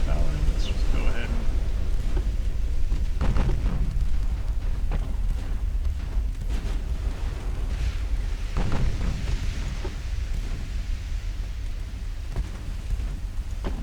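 Naval gunfire in the Ultimate Admiral Dreadnoughts video game during a 1910 British convoy battle, heard as repeated deep booming blasts and rumbling over continuous low noise, with talk throughout.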